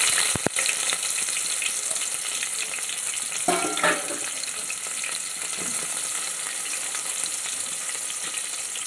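Onions sizzle steadily in a generous amount of hot oil for a fish curry, a continuous close frying hiss with a brief clatter of stirring partway through.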